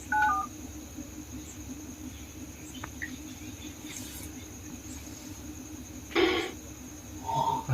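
A telephone is dialed: short bursts of keypad tones at the start and again near the end, over a steady chorus of crickets outdoors.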